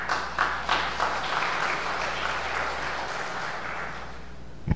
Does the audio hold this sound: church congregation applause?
yes